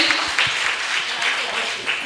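Applause from an audience at a bait bazi poetry recitation competition at a madrasa in Aurangabad, a dense wash of clapping that lasts the whole short stretch at moderate volume, with no voice over it.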